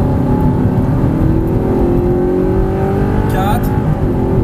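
An Audi R8 with a 570-horsepower engine accelerating at full throttle on a track, a loud steady engine drone rising in pitch throughout, heard from inside the car with a brief sharp noise near the end.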